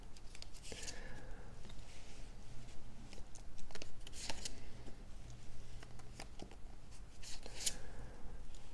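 Tarot cards shuffled by hand in steady rustling bursts with a few sharper riffles and snaps, close and fairly soft against a quiet room, with no talking.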